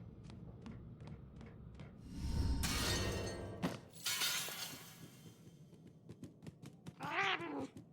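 A cat meows in the ghost detective video game Murdered: Soul Suspect inside a house, amid crashing, shattering game effects and quieter scattered thuds, ending with a short rising meow.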